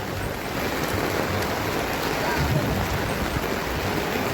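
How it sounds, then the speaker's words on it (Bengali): Heavy rain drums on a new umbrella that is letting water through, making a dense, even hiss that stays steady and moderately soft throughout. "এত জোরে জোরে বৃষ্টি দিতেছে"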